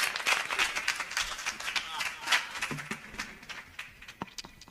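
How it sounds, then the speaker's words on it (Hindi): Scattered clapping from a Hindi poetry-reading audience welcoming a poet, brisk and uneven, with people talking underneath. "जोरदार तालियां बजाकर के स्वागत करिए"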